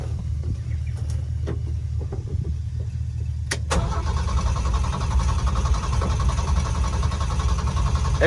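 Old rusty Ford truck engine cranking over without catching, a low rhythmic churning that grows louder and more steady after a sharp click partway through, close and continuous.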